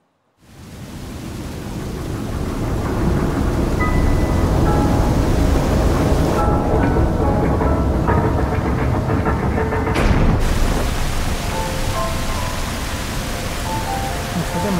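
Heavy rain and thunder in Zelda: Breath of the Wild, a dense, continuous hiss with a low thunder rumble underneath that holds for the whole stretch.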